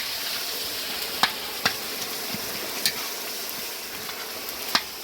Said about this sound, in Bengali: কিছু মশলা দিয়ে এটা ফ্রাই হবে।